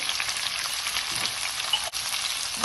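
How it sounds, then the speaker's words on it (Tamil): Sliced big onions and white onions, salted, frying in a pan for a Sri Lankan dried anchovy dish, giving a steady close sizzle with a faint stir sound and no talking. "வெங்காயம் மெல்லிய பொண்ணுரத்துக்கு வதங்கி வரணும்"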